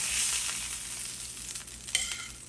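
Fish fillet with fatty skin sizzles steadily in a hot pan, a close, continuous frying hiss with small crackling pops, no talking over it.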